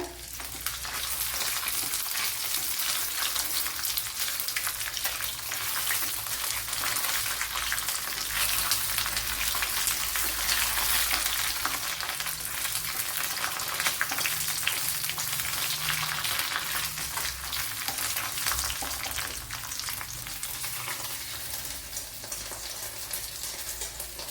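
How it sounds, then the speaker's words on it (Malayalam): Raisins fry in a pan for Kerala-style semiya payasam, an Onam sweet: a continuous close sizzle and crackle with faint stirring, steady from start to finish with no talking. "അതേപോലെ ഈ മുന്തിരിങ്ങയും കൂടെ ഇട്ട് കൊടുക്കുക."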